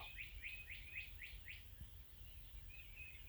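Wild birds call in a series of repeated chirps at a spring turkey hunt in Nebraska on a calm, clear morning; the steady chirping is moderately near with a constant low background rumble, and no distinct gobbling stands out.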